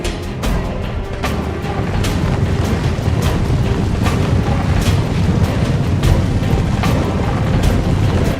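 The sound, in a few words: artillery cannon fire in a strategy video game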